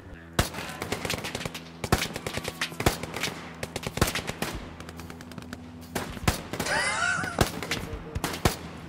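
Machine gun fire in the World War II shooter Hell Let Loose: repeated loud close bursts and scattered single cracks, mixed with more distant firing and a low rumbling backdrop, with a shouted voice briefly heard near the end.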